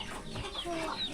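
Chickens kept for sale in a rural countryside setting cluck briefly at moderate distance, a short burst of low calls over faint background noise.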